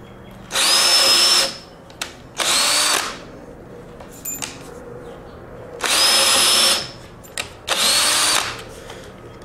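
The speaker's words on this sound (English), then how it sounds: "Drill your other 2 holes" A power drill whines loudly in four separate bursts while drilling holes in wood for garden boxes, each lasting about a second or so, with short quiet pauses between them.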